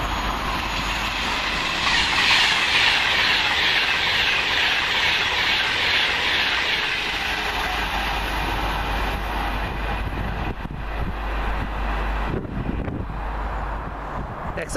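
Express train from London Euston to Glasgow Central passing Kings Langley: a long, steady rushing roar with wind buffeting and rail rumble, loud and close throughout, easing slightly near the end.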